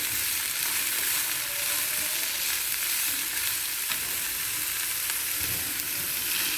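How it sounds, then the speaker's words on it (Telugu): Onions and coconut fry in a pan for a tiffin chutney, a steady, moderately quiet sizzle with a few soft stirring scrapes and no talk. "ఉల్లిపాయలు కూడా వేసి ఒకసారి వేయించండి"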